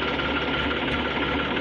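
A tractor engine runs at a steady, close rumble with a rapid mechanical chatter, continuous and loud throughout the short stretch.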